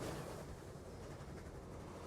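A coal train running in the railway simulation game Transport Fever 2 gives a faint, steady low rumble of rolling wheels and cars, quiet and continuous without any speech.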